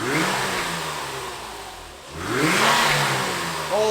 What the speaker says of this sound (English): let's have the car warm up and then we'll get some revs